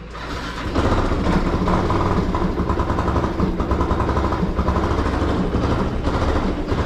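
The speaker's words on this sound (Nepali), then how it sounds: "बाइक कोल्ड स्टार्ट गऱ्यो अलि" Motorcycle engine idling steadily after a cold start, a close, even, continuous rumble with a rapid low putter throughout.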